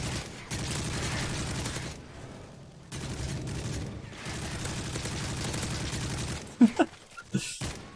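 Rapid automatic gunfire in Modern Warfare 3 rattles in sustained bursts with brief pauses, followed by a few sharper impact sounds near the end.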